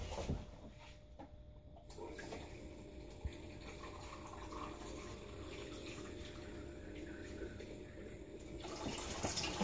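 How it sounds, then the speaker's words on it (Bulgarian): Water poured into a PinJet 33 pin magnetic drum cleaner, a steady splashing trickle that runs for several seconds and swells slightly toward the end, with no talk. "Ще налеем вода."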